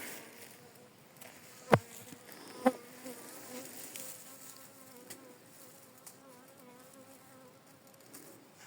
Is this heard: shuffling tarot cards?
no